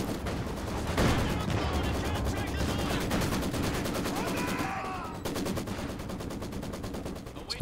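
SU-85 tank destroyer and other units firing in a Company of Heroes 2 battle, continuous rattling gunfire with heavy cannon thumps, a loud sharp report near the start and dense combat noise throughout.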